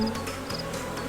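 Honeybees swarming around a busy hive drone in a steady, dense hum, close and continuous, with no voices over it.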